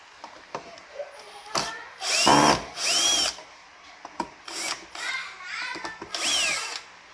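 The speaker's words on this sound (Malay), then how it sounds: "Cara mudah, kita pakai cordless drill lah." A cordless drill removes the cover screws from a Philips steam iron, with several short whirring bursts of varying length and pitch, close and fairly loud, separated by brief pauses and small handling clicks.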